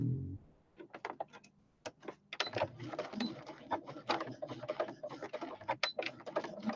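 A sewing machine stitching a country-style fabric placemat, with short clicking stitches and intermittent bursts after a brief pause, fairly quiet and close, alongside faint bird-like chirps.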